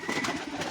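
Giribaz pigeons coo in a soft, low, continuous murmur, close by and moderately quiet, with no talking over it.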